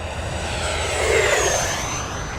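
An E-flite Viper 90mm RC ducted-fan jet makes a fast pass down a runway at a flying field. Its whining turbine-like roar swells steadily as it approaches, peaks, then eases slightly as it passes, with no talk.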